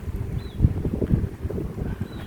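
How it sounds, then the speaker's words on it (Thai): Gusty wind before rain sweeps steadily around an outdoor spot by a house in Thailand, a continuous low rushing roar with buffeting swells on the microphone, no voices. "ลมฝนมา รอบทิศเลยค่ะ"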